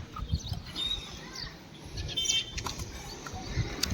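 Soft bursts of wing flapping amid faint chirps, quiet and somewhat distant, with background rustle and no clear talking.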